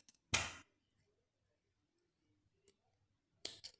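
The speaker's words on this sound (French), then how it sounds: "Et je vais couper mon fil." Two sharp snips from scissors cutting beading thread while making a Miyuki bead bracelet, a first cut near the start and another near the end, with a faint small tick in between, close and otherwise quiet.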